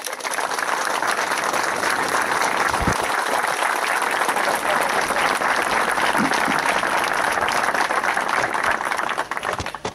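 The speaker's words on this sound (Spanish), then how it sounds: "El aplauso fuerte para ellos." A large crowd at an outdoor ceremony for a town's 134th anniversary, Arroyo Corto, applauds loudly and steadily, a continuous wash of clapping that holds for the whole stretch.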